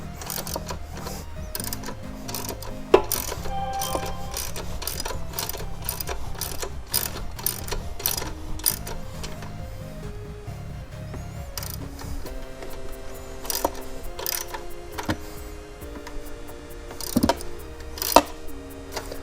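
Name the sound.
spinning out a bolt to tighten the motorcycle chain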